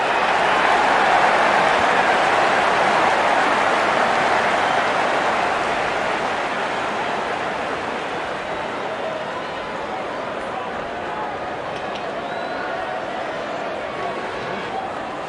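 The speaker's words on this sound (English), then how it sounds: "The crowd is enjoying every bit of this action." Crowd noise from a cricket match in the video game Cricket 24, a broad steady roar of cheering that swells at the start and then settles to a sustained wash of sound, with no commentary heard.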